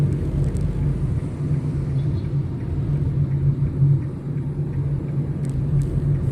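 Steady low engine rumble and road noise from inside a car driving in traffic past a school while overtaking a jeepney, continuous and even with no talk.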